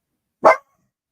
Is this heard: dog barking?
yes